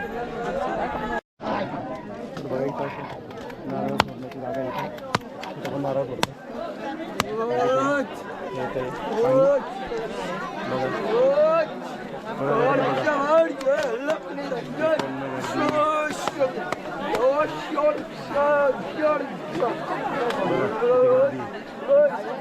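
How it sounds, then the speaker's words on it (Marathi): Crowd chatter at a temple on Kanhasra hill fort: a steady, close babble of many overlapping voices that swells and dips throughout, with nearby individual speech. "तर बघा किती गर्दी आहे"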